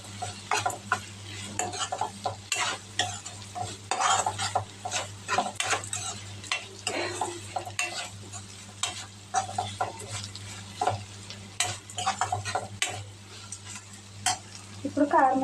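Dried prawn gongura curry being stirred in a pan after turmeric goes in, with repeated spoon scrapes and clinks against the vessel over a steady low sizzle, close and uneven in rhythm, no talk.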